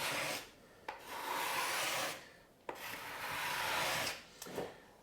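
A hand scraper works along a maple wood seam in three long, raspy strokes, each swelling and fading, separated by short pauses and sharp little ticks as the blade lifts and resets.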